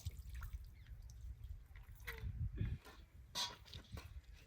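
Cold water running and dripping while hands are washed outdoors in a village, soft splashes and trickles coming in short irregular bursts, fairly quiet and close.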